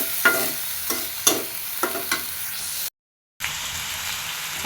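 Potatoes frying in hot oil, a steady crackling sizzle punctuated by several regular stirring strokes, close and moderately loud, with a brief dropout of silence partway through.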